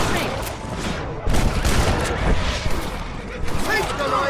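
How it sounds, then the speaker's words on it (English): Gunfire in the Red Dead Redemption video game, a dense, loud fusillade of repeated shots and booms running throughout, mixed with voices talking over the shooting. "You're shooting right at me."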